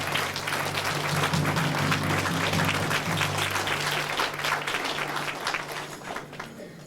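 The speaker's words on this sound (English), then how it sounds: "I'd like them to stand up and get another round of applause, please." Concert audience at a community band spring concert applauding soloists, steady loud clapping filling the hall for several seconds before tapering slightly near the end.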